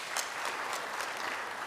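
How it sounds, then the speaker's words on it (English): Audience clapping for sponsors at an industrialization conference in Kenya, a steady, fairly soft wash of applause from a crowd that fills the whole short moment without pause. "please give them a clap"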